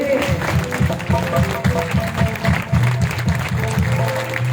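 A church congregation claps in praise of God, rhythmic and fairly loud, keeping a steady beat under singing or voices throughout.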